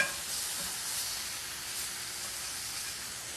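Tofu frying in a pan with tamari soy sauce gives a steady, even sizzle and hiss throughout, close and continuous with no voices.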